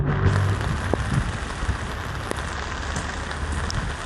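Heavy rain pours down steadily, a dense roaring wash of drops drumming on surfaces, close and loud throughout.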